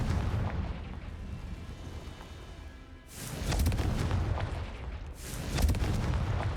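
A Confringo fire spell explosion in the video game Hogwarts Legacy, with two loud, booming blasts about two seconds apart over a steady rumbling game background.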